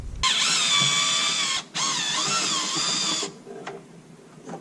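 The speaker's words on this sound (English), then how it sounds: "I'm just gonna go ahead and start unbolting all 4 of those and pull out the light" Power tool spinning out 7mm bolts from a Ford Mustang reverse light, heard as two close whirring bursts with rising and falling pitch and a short gap between them, then quieter handling noise.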